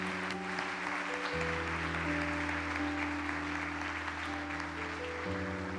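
A church congregation claps quietly at a Sunday morning service, soft continuous applause running beneath sustained keyboard chords that shift a couple of times.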